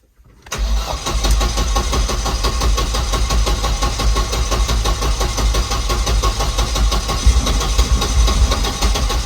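A turbocharged Volvo 245 engine cranks and fires, then settles into a loud, steady, slightly uneven idle heard up close with no talking.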